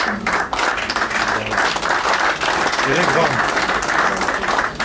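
Wedding guests at a traditional wedding applaud the family in a steady, dense wash of clapping that runs the whole stretch, with a voice speaking briefly over it.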